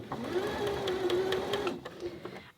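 A sewing machine stitches fabric along a 15 mm seam guide, running in a steady close mechanical whir for about two seconds before slowing and stopping, with a few light clicks.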